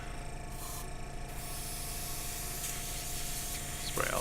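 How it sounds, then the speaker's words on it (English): An airbrush sprays water onto a towel, giving a soft, close hiss that starts in a couple of short bursts and then settles into a continuous spray with no voices. "Spray it on my towel to see if there's any more paint coming in."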